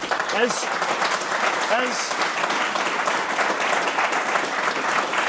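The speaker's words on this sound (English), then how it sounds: "as we do a final round of applause" A final round of applause from the audience at a speaker series event, sustained dense clapping with a few brief cheers or whoops early on, continuous for over five seconds.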